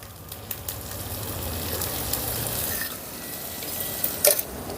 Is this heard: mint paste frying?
yes